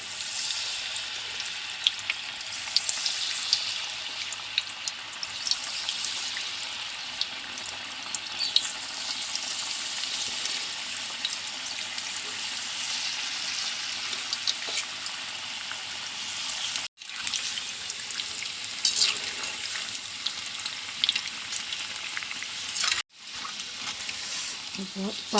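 Pakkavada dough frying in hot oil, a steady dense sizzle and crackle running throughout with a couple of brief drop-outs, moderately loud and close.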